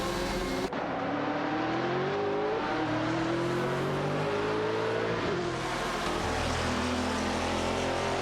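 In a video game race, a Ferrari 575 GTC and a Saleen S7-R battle for second place, their engines roaring steadily with shifting, rising pitch, loud and continuous, with no voices.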